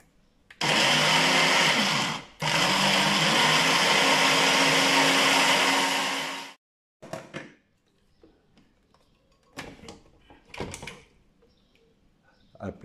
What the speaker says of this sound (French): je vais mixer le tout.